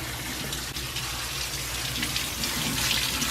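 Tap water gushes steadily and close by as soaked almonds are rinsed and strained in a sink, with a continuous, even rush and no pauses.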